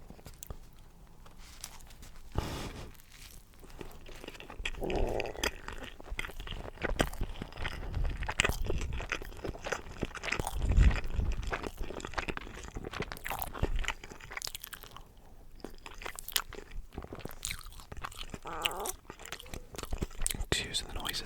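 Someone bites into and chews a Subway hot dog with onions, producing close, soft crunches and wet chewing sounds, with quiet speech scattered through.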